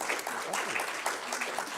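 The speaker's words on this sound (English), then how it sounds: "We're going to clap." A seminar audience claps briefly after a talk on randomised trials for social policy, a short, moderately faint patter of many hands.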